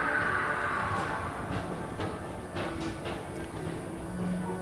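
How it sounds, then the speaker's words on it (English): Express train rolling through Tomorrowland at Walt Disney World, a moderate rumbling run with faint clicks and a brief higher tone, heard from nearby without talking. "your express train keeps on rolling through the future"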